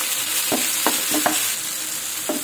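Chopped onion frying in ghee gives a steady bright sizzle, with several short scraping stirs of a spoon against the pan spaced through the moment; no voices.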